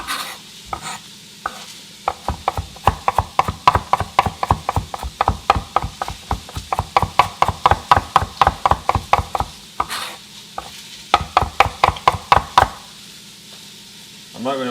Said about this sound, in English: Fancy chopping skills.